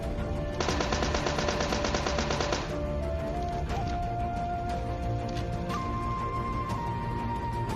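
Rapid automatic gunfire in a battle royale shooter game, one burst of fast shots lasting about two seconds, followed by quieter game sounds and a few isolated tones.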